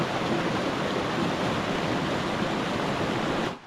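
Water from a mountain stream source on a hike near Mt. Namandiraan, Cervantes, Ilocos Sur, a steady close rushing flow with no talk, cutting off abruptly at the end.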